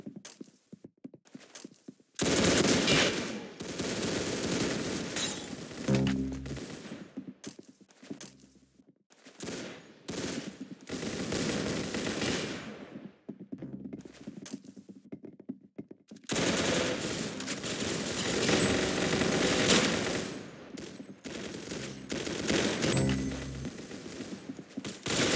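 Sustained bursts of video game gunfire and automatic weapon fire rattle loudly across a long stretch, broken by short pauses and heavier impacts, with no voices over it.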